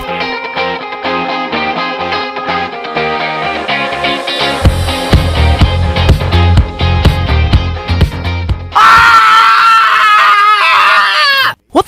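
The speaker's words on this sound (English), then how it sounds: "He loves to run around town screaming when there's a new beer release." A man lets out a loud, ragged scream lasting about three seconds. It bursts in right after a stretch of music and is cut off abruptly at the end.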